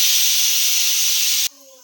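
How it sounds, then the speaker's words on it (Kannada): A pressure cooker on a stove whistles loudly while sambar cooks inside, one steady piercing steam hiss that cuts off abruptly near the end, leaving only quiet background. "1 ವಿಷಲ್ ಆಗಿದೆ"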